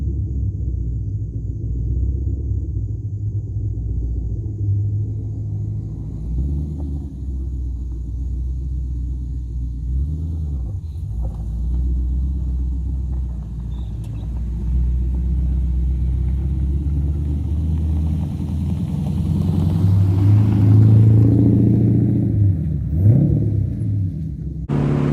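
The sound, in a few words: LS V8 powered Porsche 944 driving on test drive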